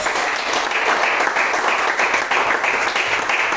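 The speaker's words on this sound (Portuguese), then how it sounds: "Aplauda o Senhor." Steady applause from a church congregation at a worship service, loud, dense and continuous throughout with no voices standing out.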